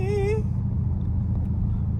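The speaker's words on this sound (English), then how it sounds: "I know that whine sound crazy though in the neighborhood" A Dodge Hellcat drives under a constant low engine drone, with a rising supercharger-style whine at the start that fades. Someone talks briefly over it.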